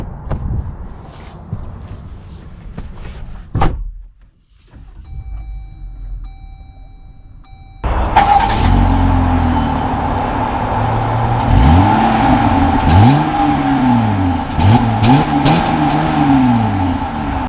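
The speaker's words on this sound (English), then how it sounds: "Let's take this Gladiator out and see how it drives." A 2021 Jeep Gladiator Mojave pickup starts with a brief whir. Its engine then settles into a loud, steady run, with rising revs as it pulls away close by.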